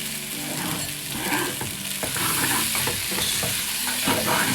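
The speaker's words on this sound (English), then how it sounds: "So you want to return your beef to the pan." Beef returned to a hot pan with sweated vegetables for a slow-cooked stew sizzles steadily, with scraping stirs and clinks of a utensil against the pan throughout, close and fairly loud, no voices.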